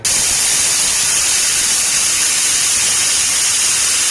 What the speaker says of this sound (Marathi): कुकरचं झाकण लावून शिट्टी व्हायची वाट बघत राहिलो